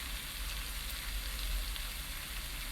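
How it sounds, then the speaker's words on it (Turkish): Dried mint sizzles in melted butter and olive oil for yayla soup, making a steady, soft, even hiss with no speech. "Tereyağı, zeytinyağı ikisi birlikte, nane ile üçü birlikte güzelce bir kaynasın."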